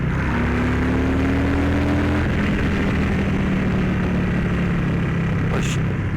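A Harley-Davidson Street Bob 114 motorcycle with a new downloaded tune runs steadily, a loud, continuous, throaty engine drone with slight pitch shifts, heard close and without talk.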